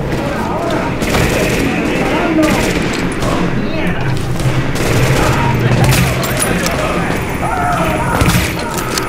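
Dense gunfire fills a firefight in Tom Clancy's The Division, with rapid overlapping bursts and heavy booms running continuously and loudly from start to finish.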